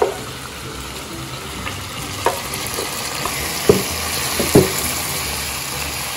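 Hari karahi chicken with green masala fries in a pan, a steady broad sizzle running throughout with a few sharp stirring clinks and scrapes near the end.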